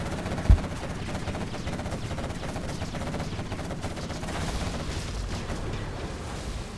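A Gatling cannon fires in a multiplayer video game match on the Drallim Desert map, a sustained rapid rattle of shots after one sharp opening crack, steady and moderately loud throughout.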